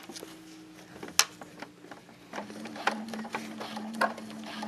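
A sewing machine stitches an invisible zipper seam in a quiet room, giving a steady mechanical hum with rhythmic stitching and a few sharp clicks and taps as the fabric is handled.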